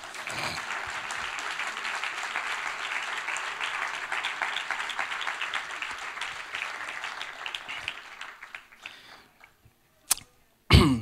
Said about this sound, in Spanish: Que no se te gasten los aplausos. Dale otro más.